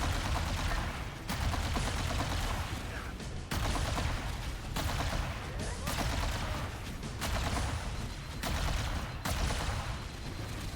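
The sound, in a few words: plasma rifle fire in Halo Campaign Evolved video game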